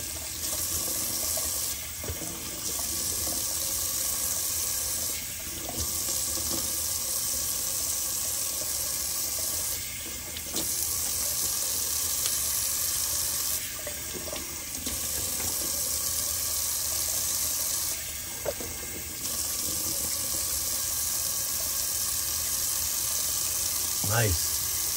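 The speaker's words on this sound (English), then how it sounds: "now let's do a little quick cold water rinse" Tap water runs steadily into a sink for a cold rinse during a wet shave, a continuous close hiss with brief pauses and changes in flow, while someone talks over it.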